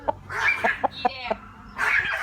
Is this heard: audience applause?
no